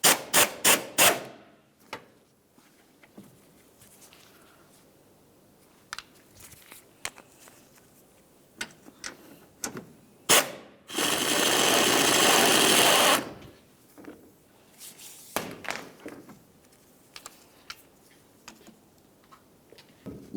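A 13mm socket wrench works the top strut mounting nuts on a 2010-2013 Ford Transit Connect, with sharp close ratchet clicks in short bursts and one steady buzzing run of a few seconds midway.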